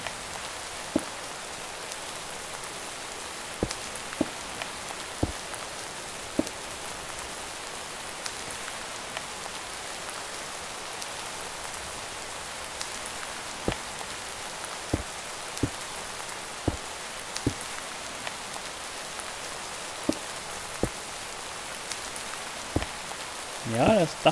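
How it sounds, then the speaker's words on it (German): Steady rain falls in Minecraft, a continuous dense hiss with scattered sharper drops and faint ticks over about twenty-five seconds, no talk heard. "Es regnet, es ist dunkel."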